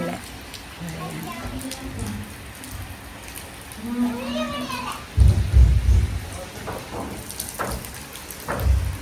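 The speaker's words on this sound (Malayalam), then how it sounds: "നല്ല മഴയാണ്" Heavy rain pours steadily in Pattaya, Thailand, with a low rumble of thunder partway through, while voices and children playing can be heard over the downpour.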